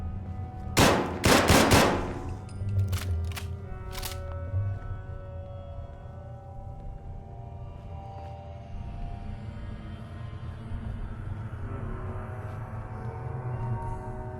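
A combat rifle firing 5.56 rounds in Fallout 4, a couple of loud rapid bursts early on followed by a few single sharp shots, then fading into a low ambient hum.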